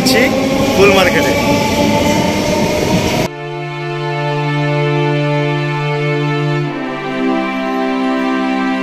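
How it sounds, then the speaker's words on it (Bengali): A train passes near Thakurnagar, first as a loud, close rumbling roar for a few seconds, then giving way to a long, steady horn-like tone that shifts pitch near the end. "ট্রেন চলে যাচ্ছে।"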